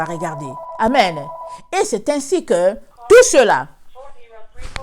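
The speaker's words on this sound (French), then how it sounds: "excusez-moi pour le téléphone." A telephone rings during a French-language sermon, its electronic bell tone sounding clearly at first beneath a voice as he preaches and continuing briefly into his speech.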